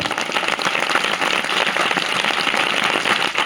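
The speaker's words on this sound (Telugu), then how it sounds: "బిగ్గరగా చప్పట్లు కొడదాం" Congregation clapping loudly during a Telugu gospel church service, dense sustained applause filling the whole stretch with no talk over it.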